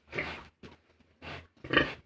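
A large sow grunts close by in three or four short, rough bursts separated by brief pauses, on a pig farm.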